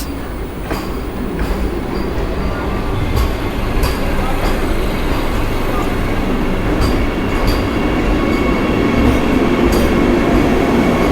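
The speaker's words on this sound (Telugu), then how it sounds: "మన two zero six zero seven Vande Bharat అయితే వచ్చేసింది ప్లాట్ఫామ్ మీదకి" A Vande Bharat express train (Bengaluru–Mysuru) arrives at a station platform, rumbling and clattering steadily, with sharp rail clicks and faint squeals over the continuous low roar.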